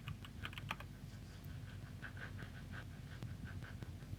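Typing terminal commands on a computer keyboard, a quiet, close run of irregular key clicks with a brief cluster near the start and steadier taps afterward, heard alone without talk.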